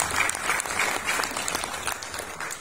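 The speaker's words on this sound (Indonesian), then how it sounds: "tepuk tangan untuk kemuliaan Tuhan" A church congregation in Banten claps together during a service, a lively burst of many hands that is loud at first and gradually softens near the end.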